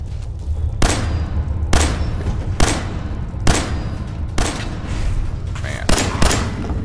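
Gunshots in Fallout 4 ring out as seven loud, evenly spaced single shots, each a sharp crack with a short tail over a steady low background rumble.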